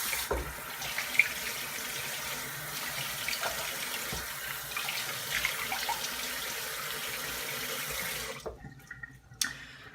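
Steady tap water runs from a faucet while rinsing off after a shave, a close, continuous splashing wash that cuts off abruptly near the end, leaving near silence.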